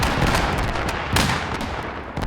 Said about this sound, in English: Artillery. It missed, but it's close